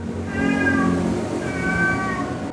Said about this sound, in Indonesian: Ada kucing tuh.